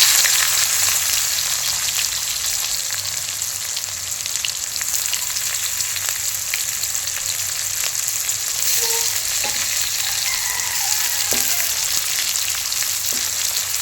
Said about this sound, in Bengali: দেখতে পাচ্ছ বন্ধুরা তেল গরম হয়ে এসেছে এবার দিয়ে দেবো পিঁয়াজ